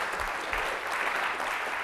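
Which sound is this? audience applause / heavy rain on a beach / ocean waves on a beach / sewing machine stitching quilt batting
audience applause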